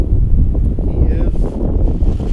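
Wind gusts through a graveyard at night, buffeting the microphone with a loud, continuous low rumble, and faint voices mix in underneath.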